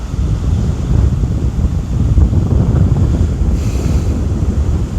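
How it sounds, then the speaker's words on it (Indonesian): Big ocean waves break on the shore in a continuous loud roar, with wind buffeting the microphone and no voices. "Tuh, ombaknya gede banget."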